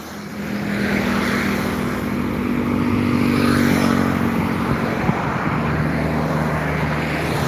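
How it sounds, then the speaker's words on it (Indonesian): Heavy trucks roll past on a road in the morning, a steady, loud engine and tyre rumble with a low droning hum that swells slightly in the middle and holds without pause. "Baru kelihatan truk-truk aja yang melintas"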